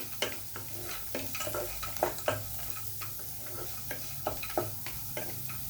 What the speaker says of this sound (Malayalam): ഇനി ഇതിപ്പോൾ നമ്മൾ ഫ്രൈ ചെയ്ത് വറുത്ത് വെച്ചിരുന്ന കപ്പലണ്ടി ഇട്ട് കൊടുക്കാം.